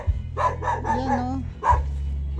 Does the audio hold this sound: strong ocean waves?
no